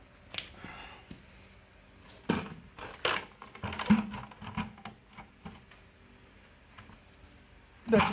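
Sharp metallic hammer taps strike the steering gear case of a 1959 Willys CJ-5 in a workshop, coming as irregular clusters of close, loud knocks with pauses between them and a final hard hit.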